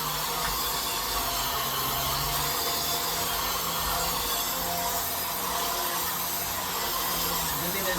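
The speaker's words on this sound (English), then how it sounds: "but I'm vacuuming." A vacuum cleaner runs continuously while a smoke room is vacuumed, a steady broadband whoosh with a fluctuating motor whine, close and constant throughout.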